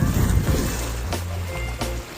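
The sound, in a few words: strong waves and wind at the shore, boat nearby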